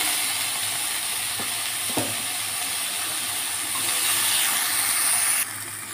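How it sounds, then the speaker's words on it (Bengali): Potatoes stir-fried in a little oil in a pan, a loud, steady sizzle and hiss that swells slightly near the end, with a couple of faint scraping stirs and no voices. "একটু সামান্য তেল দিয়ে এবারে আলুগুলোকে নেড়ে নিচ্ছি আমি"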